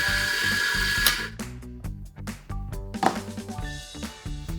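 An espresso coffee grinder runs loud and close, purging ground coffee with a buzzing motor whine broken by uneven pulses and mechanical clicks, with no talking.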